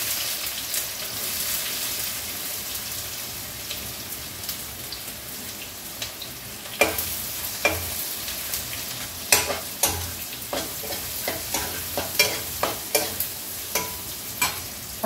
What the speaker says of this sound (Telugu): అట్లానే ఇప్పుడు ఆనియన్స్ వేసుకుందాం,